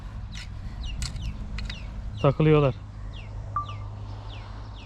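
On a farm, chicks peep in quick, high chirps scattered throughout, with a louder clucking burst in the middle and a person talking briefly.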